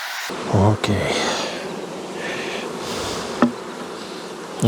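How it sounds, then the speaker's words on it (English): Honey bees buzz steadily around an open nuc hive, a close, dense drone that carries throughout, broken by a few sharp knocks and clatters of hive equipment being handled. "I got so many bees"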